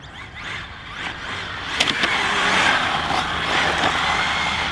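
A ZD Racing EX-07 RC car drifting on a track, giving a steady whirring electric-motor whine with hissing tire scrub and a few sharp clicks, moderately loud and close throughout.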